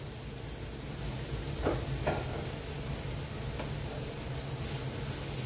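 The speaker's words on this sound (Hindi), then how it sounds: "और इसे अच्छी तरह से मिक्स कर देते हैं" Dosa filling is being stirred and mixed in a hot pan, with a steady sizzle and a few distinct scraping strokes of the spoon against the pan, close up and without any talking.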